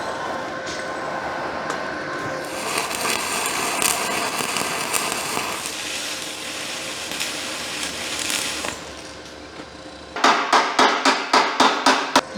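A Harbor Freight Titanium Stick 225 welder lays hardfacing beads, giving a long crackling, sizzling arc, then a rapid series of sharp, evenly spaced metallic knocks, loud and close.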